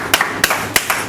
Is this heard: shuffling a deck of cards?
no